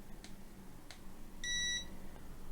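A multimeter gives a single clear electronic beep during a continuity test, lasting about half a second, with faint clicks from the probes before it and no talking.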